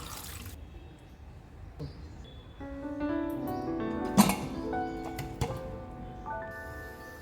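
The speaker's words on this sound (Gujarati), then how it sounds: "પાણી એડ કરી દઈશું।" Water is poured into a pressure cooker holding karela with turmeric and salt. There are soft splashes and trickles, metallic clinks, and ringing tones as the cooker fills, all fairly faint.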